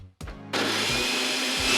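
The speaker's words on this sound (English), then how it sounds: "I've even got a remote for my blender." A kitchen blender switched on by remote: a short click and brief mechanical rumble, then a sudden, loud, steady motor whir that runs continuously and close up, with no voices.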